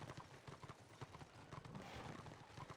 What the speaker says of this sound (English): you can hear the horse coming from a mile away